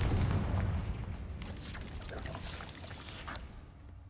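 A Confringo blasting spell goes off in Hogwarts Legacy, a muffled explosive boom with a rumbling low thud that fades into scattered crackling debris.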